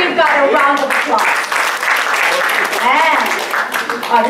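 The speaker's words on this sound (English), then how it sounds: "Can we just give God a round of applause?" Church congregation applauding during a Sunday service at Lighthouse Church, steady dense clapping mixed with cheering and excited voices throughout, loud and close.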